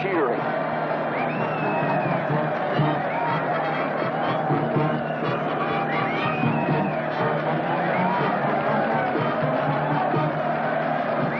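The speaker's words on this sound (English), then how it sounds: "look at that mob waving and cheering" A large outdoor mob waves and cheers to welcome long-lost castaways home, a steady wall of crowd noise with scattered whoops and babble that holds at an even level throughout.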